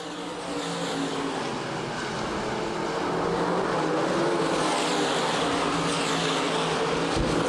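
Modified race cars roaring around Winchester Speedway in the ICAR Top Speed Fabrication Modifieds feature, a continuous loud engine drone that swells slightly midway as the pack passes, with no voices.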